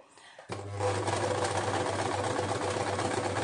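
A home sewing machine stitches with a twin needle, starting abruptly and then running at a steady fast whirring hum with rapid even needle clatter, close and alone.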